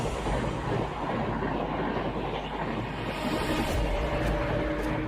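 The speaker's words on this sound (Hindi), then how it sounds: "सिकंदराबाद से हज़रत निज़ामुद्दीन दुरंतो एक्सप्रेस वेब 7 के साथ जाती हुई।" Secunderabad–Hazrat Nizamuddin Duronto Express hauled by a WAP-7 electric locomotive rushes past, a steady dense roar of wheels and rolling stock with wind noise, moderately loud and continuous from start to end.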